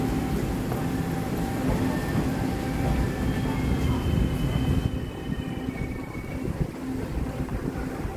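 A Chu-Kuang express train hauled by a single E212 electric locomotive departs on Taiwan's coastal line with two baggage cars, producing a steady low rumble, a faint whine and wind noise, easing after the midpoint.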